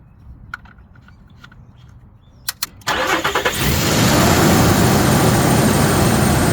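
A Nissan Pathfinder engine starts after an oil change: a few faint clicks, then a short whirring crank and the engine catches into a loud, steady idle that holds to the end.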